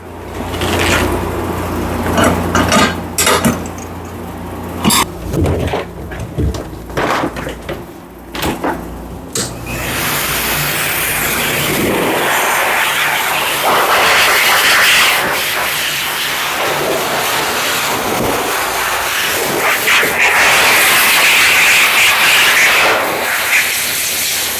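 High-velocity dryer blowing air over a toy poodle, starting with knocks and bumps before settling into a loud, steady, close hissing roar that runs for about fifteen seconds.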